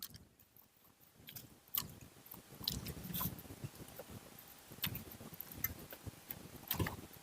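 Someone bites and chews soft food up close: wet, irregular mouth sounds and occasional sharper crunchy clicks repeat at an uneven pace, with no talking.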